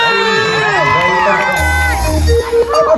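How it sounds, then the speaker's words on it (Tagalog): A crowd at a campaign rally for a candidate cheers and shouts loudly, with whoops and excited voices layered over a bright, busy din that swells toward the end. "Palakpakan naman tayo na may kasama sigawan!"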